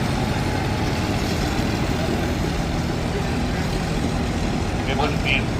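Vintage McCormick W6 Standard tractor engine running at a steady low rumble, close and continuous, with a voice speaking over it at an outdoor show.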